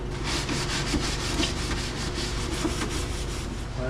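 A refrigerator coil is scrubbed in quick, rhythmic back-and-forth strokes, a close and fairly loud raspy brushing that repeats steadily throughout, with no voices.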